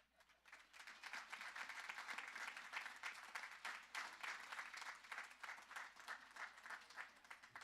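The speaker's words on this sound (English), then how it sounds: "Can we give another round of applause for our young scholars?" Audience applause at a high school graduation ceremony, a large crowd clapping steadily, swelling after a quiet start and holding a dense patter to the end.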